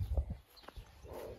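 A few dull hoof thuds from a heavy draft mare stepping nearby, uneven and soft, with faint rustling in between.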